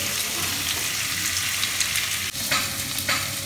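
Carrots and potatoes frying in a pan: a continuous close hiss of hot oil with occasional stirring clatter and a sharp knock near the end, fairly loud and with no voices.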